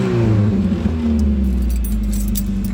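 A warmed-up 1986 Toyota Corolla SR5 AE86 with stock exhaust minus its muffler idles steadily up close, a low continuous hum with faint metallic jingling on top and no talking.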